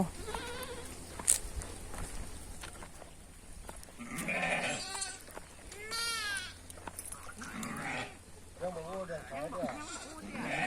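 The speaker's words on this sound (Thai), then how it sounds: "ตอนนี้ก็กำลังเลือกชมแพะของเรา" Goats bleat on a goat and sheep farm, several short wavering cries coming at intervals, mixed in with people talking nearby.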